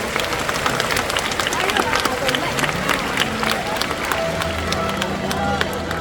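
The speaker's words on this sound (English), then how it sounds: "So let's take a moment and give a round of applause to these lovely birds" Audience in an outdoor amphitheater at a bird park show applauding after a raptor demonstration, loud continuous clapping mixed with crowd chatter and background bustle throughout.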